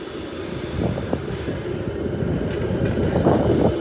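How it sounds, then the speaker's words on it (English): A yellow and green Helsinki tram passes by on a snowy city-centre street, a steady low rumble with faint rail clatter and squeal rising slightly as it approaches. "Tram going by, one of the yellow and green trams."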